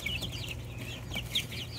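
Chickens, mostly hens kept with two ducks, cluck and chirp repeatedly in a brooder, soft, close and unhurried, with no talking.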